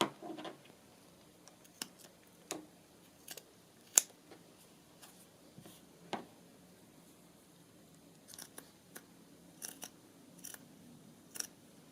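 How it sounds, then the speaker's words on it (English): Scissors snip through a strip of paper trim cut down the middle for a music journal pocket, a series of sharp, close crisp snips spaced irregularly over quiet surroundings. "I might just take a piece of this, cut it down the middle, and have that as my trim"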